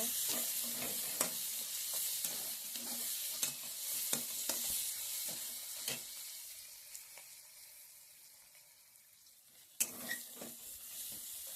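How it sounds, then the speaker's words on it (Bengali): Chopped onions fry in a pan with a steady close sizzle, broken by repeated stirring scrapes and metal taps against the pan; the hiss fades slightly before a sharp clank near the end. "পেঁয়াজগুলো ভালো করে আমি ভেজে নেব"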